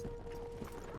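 A horse's hooves clip-clop in Red Dead Redemption 2, several faint soft hoofbeats over a steady game background tone, with no talk.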